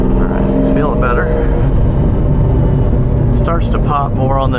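A Lamborghini Diablo engine rumbles up close, with someone talking over it; sharp crackles and pops burst from the warmed-up exhaust near the start and again near the end.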